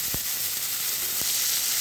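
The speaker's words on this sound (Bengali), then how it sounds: "দিয়ে এটাকে আমি খানিকক্ষণ ভাজা করে নেবো।" Vegetables seasoned with salt and turmeric frying in a pan, a dense, even, close-up sizzle that holds steady throughout, broken by two soft low knocks.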